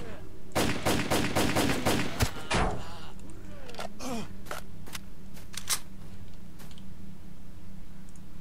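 Rapid automatic gunfire in the shooter Lost Alpha during a fight with bandits, a loud close burst of shots for about two seconds followed by scattered single shots and clatter over a low ambient hum.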